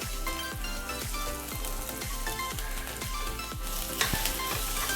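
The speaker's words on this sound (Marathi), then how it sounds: "हलकासा कांदा परतला की त्यामध्ये आपण एक क्रश केलेली हिरवी मिरची थोडंसं लसूण आणि थोडंसं आलं हे क्रश केलेलं आहे ते आपण टाकून देऊया" Crushed green chilli, garlic and ginger sizzling with onion in hot oil, a steady close crackle under a regular rhythmic background beat, with no talk.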